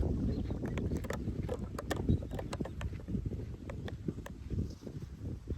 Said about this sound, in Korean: 바람이 엄청 불죠?